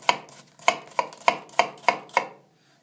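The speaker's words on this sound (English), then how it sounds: "So you're going to lift here and cut." A kitchen knife chops vegetables on a cutting board in seven crisp, evenly spaced strikes, a steady metronome-like rhythm, close and clear with no talking.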